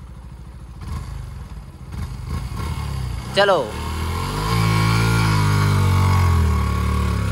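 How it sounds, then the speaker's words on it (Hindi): A motorcycle engine labors and revs up steadily while it tows a car, starting with clattering and a sharp squeal before the engine note rises and holds, with a voice speaking briefly over it. "तो भाई बाइक तो खींच के ले जा रही है भाई गाड़ी को"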